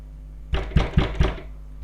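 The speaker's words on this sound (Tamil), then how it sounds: "யாரோ கதவு தட்டுறாங்கடா." Four firm knocks on a door in quick succession, close and loud against a steady low hum, with no talking.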